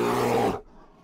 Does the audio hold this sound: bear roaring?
yes